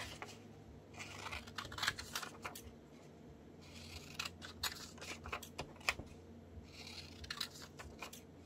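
Scissors cut paper for a collage, giving soft, irregular snips and crisp paper rustles in quiet, close-up bursts.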